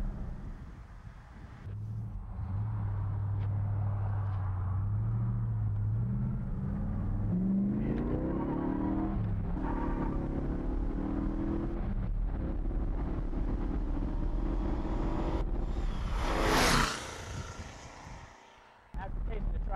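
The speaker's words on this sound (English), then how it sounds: "I just love the way the tri-power runs." The tri-power V8 engine of a 1967 Pontiac GTO idles with a deep, loping rumble, then revs up and settles, loud and close, before a sharp hiss near the end.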